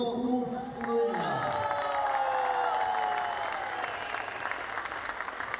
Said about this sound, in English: The judges are clapping.